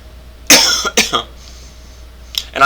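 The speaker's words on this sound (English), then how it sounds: "I apologize for any coughing you hear." A person coughs several times up close, a harsh burst followed by two smaller coughs, then another rough cough after a short pause.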